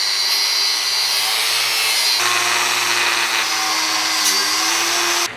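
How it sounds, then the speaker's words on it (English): A cutoff wheel on a grinder bites into the steel of a vintage blacksmith hot cut, giving a loud, steady, high-pitched abrasive whine with slight shifts in pitch that cuts off at the end. "So that's just what I could get off with the cutoff wheel"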